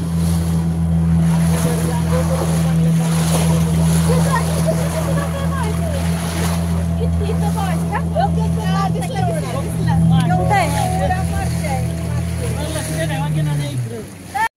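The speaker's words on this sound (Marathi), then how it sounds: "आम्ही आता रिटर्न फिरलेलो आहोत आणि बोटीचा सफर करत" A motorboat engine drones steadily at sea near the Karli river mouth, with rough waves and splashing water around it and people talking over the engine throughout.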